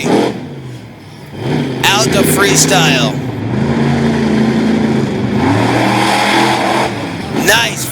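The Black Stallion monster truck, powered by a Ford racing engine, revs loud and close at a freestyle event in Honesdale, Pennsylvania. Its engine surges and falls repeatedly while an announcer talks over the roar.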